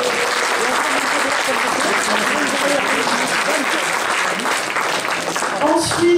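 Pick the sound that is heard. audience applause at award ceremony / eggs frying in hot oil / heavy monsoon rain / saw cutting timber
audience applause at award ceremony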